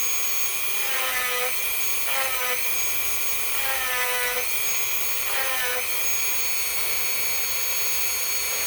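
A steady high-pitched whine of a power sander grinding the edge of a 1963 Ben Franklin silver half dollar, loud and continuous, with pitch dips and rises as pressure changes in repeated passes.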